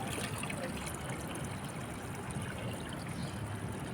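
Water poured into a potted bougainvillea to test how the soil drains, a steady close trickle and splash running for the whole stretch.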